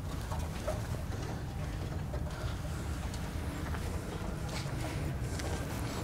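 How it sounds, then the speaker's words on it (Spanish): Pigeons coo faintly inside a run-down abandoned mansion with a sagging roof, soft low calls under a steady background hiss with scattered light patter, no one speaking. "Son las palomas que están aquí."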